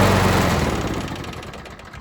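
An old lawn mower engine, received for free, running roughly after its carburetor was primed. Its loud, steady engine drone with a knocking pulse holds close throughout and fades slightly toward the end.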